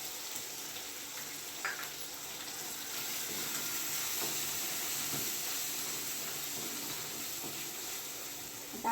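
Turmeric is added to a guar bean dish frying in a pan, giving a steady, close sizzle with faint stirring clicks and no talking.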